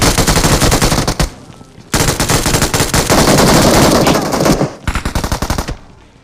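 An MG3 machine gun fires long, loud bursts in a battle royale video game, with rapid rattling shots, a short break, then more sustained fire ending in choppy bursts.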